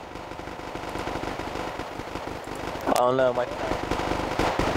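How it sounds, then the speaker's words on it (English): Rapid machine-gun bursts and scattered gunshots from the real-time strategy video game Wargame: AirLand Battle, sounding as continuous crackling battle noise in the background while a player speaks briefly over it. "I can't hear you over the gunfire."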